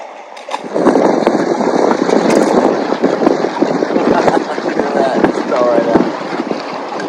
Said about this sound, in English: I bet the wind's high, so it's probably hard to hear me.